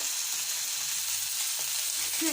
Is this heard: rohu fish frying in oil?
yes